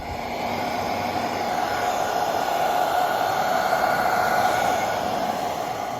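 A heat gun blows steadily on the glued trunk cover of a Zero SR/F electric motorcycle, giving a constant loud whooshing hiss with a faint whine that holds at one level and carries no speech.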